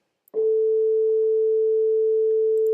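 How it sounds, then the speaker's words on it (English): A pure sine wave from a Pure Data oscillator sounds an octave lower, starting after a short click and then holding as a clean, steady, unwavering single tone to the end. "So that's what your basic sine wave output sounds like."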